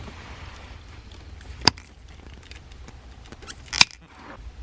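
Two crisp snips as a car alarm relay wire is cut, sharp clicks standing out above a low steady background hum, roughly two seconds apart, with no voices.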